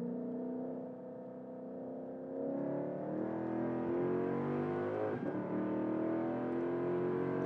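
Exhaust burbles and engine note from a car taking a corner, starting as a low rumble that swells into a louder, rising rev with crackly pops, heard from inside without talk.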